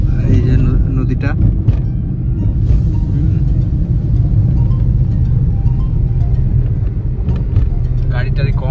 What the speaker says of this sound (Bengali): গাড়িটারি কম আছে এখন, লরি আছে কয়টা।